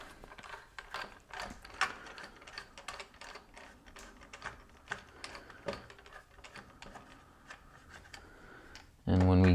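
A ratchet works loose the left pop bumper on a White Water pinball playfield, giving a steady run of quick, close mechanical clicks that ends in a sudden loud clunk.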